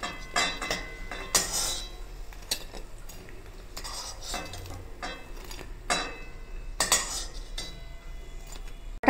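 Fried dahi vada pieces are lifted from a pan of hot oil with a metal utensil, giving repeated clinks and scrapes against the pan over a faint steady sizzle, with no talking.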